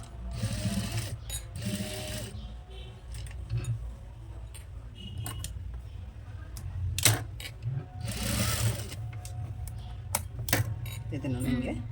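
A sewing machine stitches buttonholes on a nighty in quick rattling bursts broken by pauses, and a person talks between and over the runs of stitching.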